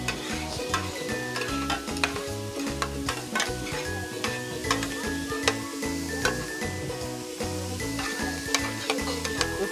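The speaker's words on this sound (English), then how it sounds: "now this time we're going to put some garlic. Okay, stir it through" Garlic stirred into mushrooms frying in a pan, a close, continuous sizzle with repeated scraping strokes of a utensil, over a low rhythmic background.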